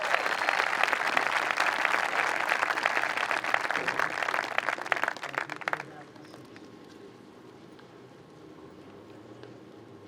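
Applause for senior choir members at a 2020 high school graduation ceremony: dense, steady clapping from a crowd that fills the first six seconds, then cuts off to quiet room tone.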